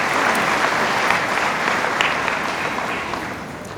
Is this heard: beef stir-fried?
no